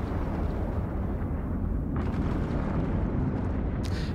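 A video game explosion rumbles as a loud, dense, continuous roar of blast noise, sustained without break with a brief crackling burst near the end.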